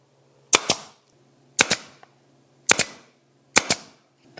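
A BANKS 23 gauge pin nailer fires four times at roughly one-second intervals, each shot a sharp, close double snap of the driver followed by a brief hiss of air.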